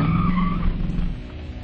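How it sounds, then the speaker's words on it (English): Drag car doing a small burnout: a loud, close squeal of spinning tires with a rising engine note, fading into a rough rumbling as it eases off, no voices. "What I am going to do is do a baby burnout and get the stuff off my tires."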